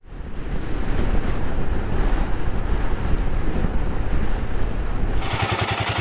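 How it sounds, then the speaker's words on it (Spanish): Strong headwind buffeting a microphone on motorcycle travelers riding near Río Grande in Tierra del Fuego, a loud, continuous roaring rumble with gusty swells and a harsher blast toward the end. "Ventarrón de frente."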